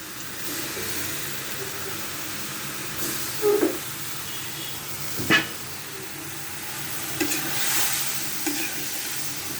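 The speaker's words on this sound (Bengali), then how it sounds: "মশলার সাথে আলুটা খুব সুন্দর করে মিশিয়ে নেব" Potatoes are stirred into spice masala in a pan for a Bengali curry, a steady hissing sizzle with a few scattered utensil scrapes and knocks, close and fairly loud, no talking.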